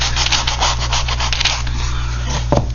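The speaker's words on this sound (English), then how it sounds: "So I'm just going to try to sand that down so I don't have those globs of paint." Sandpaper rubbed by hand over dripped paint globs on a decorative riser, a close, raspy scratching in quick repeated strokes over a steady low hum.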